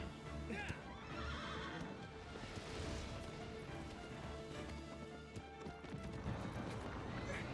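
A horse neighs and whinnies in the Shadow of the Colossus game, with clip-clop hoofbeats and a busy game soundscape running throughout at low level.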